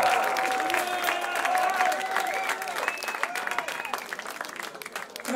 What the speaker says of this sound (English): Give them a fucking huge round of applause, please.